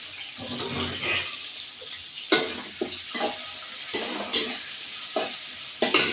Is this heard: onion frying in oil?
yes